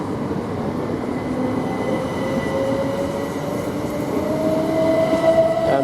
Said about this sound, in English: this train, South East train, now departing towards Ramsgate from London Victoria.